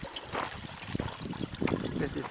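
Water trickles and splashes irregularly from a pond overflow, faint and close, with brief bursts of dribbling amid quieter gaps.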